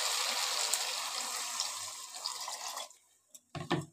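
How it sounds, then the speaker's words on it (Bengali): Water pours into a pan of fried curry in a home kitchen, a steady broadband splashing that stops abruptly near the end, followed by a few clanks and stirring knocks. "এবার আমি জল দিয়ে দিচ্ছি।"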